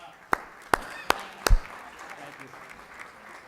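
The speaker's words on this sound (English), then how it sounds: "Please give him a round of applause, Councilman Ala Abdelaziz." Audience at a Black History Month honorees ceremony gives a councilman a round of applause: four sharp, separate claps ring out in the first second and a half, then a faint murmur of the hall lingers behind.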